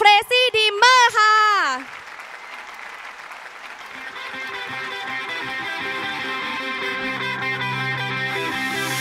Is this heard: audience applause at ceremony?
yes